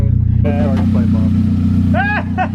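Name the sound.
1999 Saab 9-3 at full throttle, charge pipe blowing off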